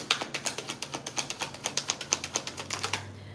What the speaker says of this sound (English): Last shuffle through the deck